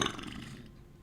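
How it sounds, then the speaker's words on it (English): A short, low guttural burp rumbles loudly at first and then fades away over about a second, alone with no talking. "stop burping"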